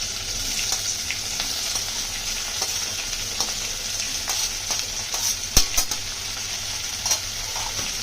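Green chilli and onion sizzle steadily in hot oil in a pan while being stirred, with occasional soft scrapes and clinks standing out over a continuous frying hiss.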